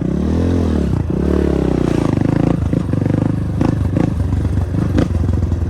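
A 250 CRZ dirt bike engine runs loud and close, climbing through rising revs with gear-like pitch sweeps, brief dips and mechanical clatter, with no one speaking.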